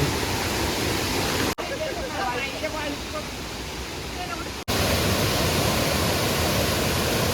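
Rainwater rushing along a stream just after a rainfall, beside a road on a walking and hitchhiking journey from Kerala to Manali; a steady, close, broadband wash of flowing water continues throughout, briefly changing in character midway.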